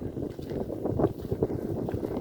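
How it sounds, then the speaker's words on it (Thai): A strong dry wind blows steadily over an open rice field, buffeting the microphone with a continuous low rumbling roar that swells and gusts throughout, with no talk. "เสียงลม"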